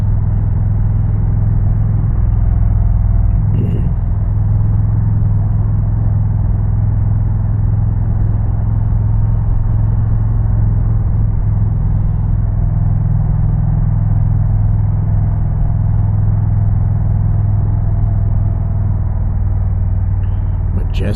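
An Indian Challenger motorcycle fitted with a Powerband Audio Hawks Nest exhaust rumbles underway, a steady, loud, deep engine drone from the rider's position with some wind noise, unbroken for the whole stretch.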